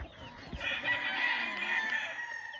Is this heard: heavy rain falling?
no